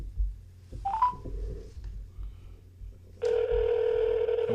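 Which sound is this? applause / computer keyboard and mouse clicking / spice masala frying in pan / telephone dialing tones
telephone dialing tones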